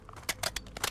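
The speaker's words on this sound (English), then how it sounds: "Changing mags." Magazine change during a reload in Warzone: a quick series of four or five sharp metallic clicks and slides within a second, close and crisp, no talk.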